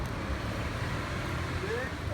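Urban road traffic hums steadily in the background, a continuous low rumble of cars with one passing vehicle's rising tone near the end, moderately loud and distant.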